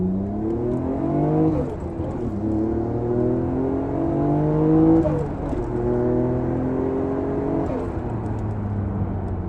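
Nissan Skyline GT-R R34 Nismo V-Spec engine and turbos pull hard through repeated climbing revs, each run breaking off at a shift, loud and close with a steady mechanical whir.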